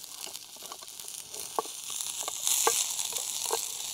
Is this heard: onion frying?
yes